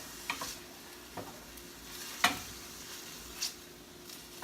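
Garlic and onions frying down in oil until almost brown, with a faint steady sizzle and occasional quiet utensil clicks and scrapes, close by, no voices.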